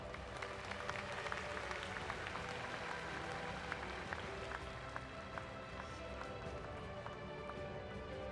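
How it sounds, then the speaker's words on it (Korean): Applause from a large stadium crowd at the opening ceremony of the 103rd National Sports Festival in Ulsan, a distant, steady wash of clapping and crowd noise, with faint announcer talk mixed in. "여러분 큰 박수로 맞아주시기 바랍니다."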